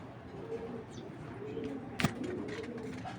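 Racing pigeon cooing softly at close range, low throaty calls repeating under quiet room noise, with a sharp knock or bump partway through.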